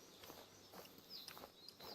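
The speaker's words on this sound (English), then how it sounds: "foliage crackling under your feet." Soft crunchy footsteps rustle through dry leaves in a steady walking rhythm in the hunting game The Hunter, with faint bird chirps in the background.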